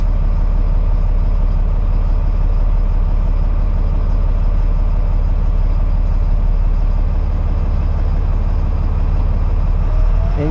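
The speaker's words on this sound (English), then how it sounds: "Slowly the tires inflate." An LMTV truck's tires inflating through its central tire inflation system, heard as a loud, steady engine rumble with a continuous low drone throughout, no talk.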